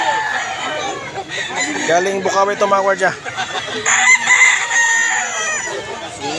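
Chickens and roosters at a Philippine poultry market stall in a tiangge: repeated nearby crowing and clucking from several birds, overlapping someone talking.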